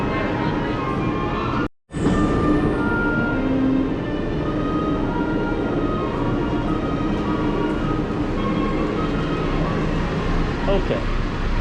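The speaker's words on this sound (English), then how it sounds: "so in the Monorail right now" Aboard a Walt Disney World Magic Kingdom monorail in motion, a steady loud rumble and hum of the running car fills the cabin with one brief dropout, and a voice talks over the noise.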